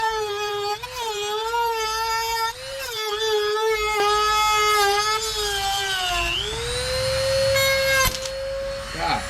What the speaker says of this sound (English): more cutting